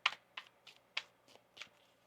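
A deck of tarot cards is shuffled by hand in short, crisp riffling bursts, about six quick ruffles within two seconds, close up and soft, with no talk over them.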